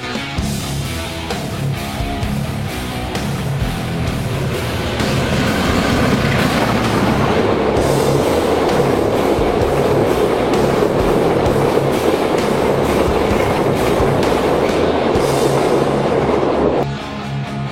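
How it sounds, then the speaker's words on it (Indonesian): A passenger train hauled by a CC206 diesel locomotive passes close by, a loud sustained rumble with rhythmic wheel clatter building and holding for the whole stretch before easing slightly at the end. "kereta api penumpang yang secara reguler ditarik CC206"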